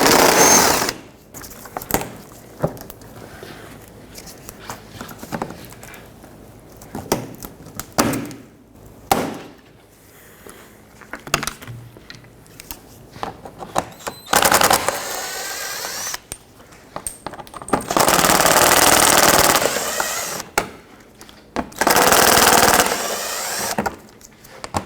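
Power tool whirring in bursts of varying length while 7mm screws and push clips are removed from under the bumper of a 2005-2010 Pontiac G6, with clicks and handling noises in between, close up and without speech.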